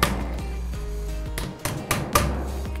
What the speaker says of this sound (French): On va tapoter au marteau délicatement pour commencer à les rentrer.